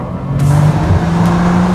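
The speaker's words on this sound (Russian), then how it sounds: "Неважно, плавно ли ты ускоряешься или нажимаешь газ в пол" A 2018 Bentley Continental GT with a turbocharged 6-litre V12 accelerates hard, its engine giving a loud, sustained, rising roar close up with no talk.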